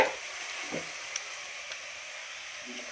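Native curry leaves fry in hot oil with a steady, bright sizzle and hiss, punctuated by a few soft pops and crackles, heard close and alone.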